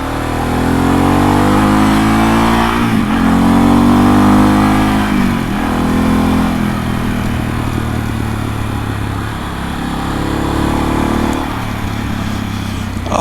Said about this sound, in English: Revolution Max engine.